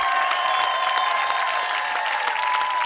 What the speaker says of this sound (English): the crowd standing ovations, applauding them as they come off the field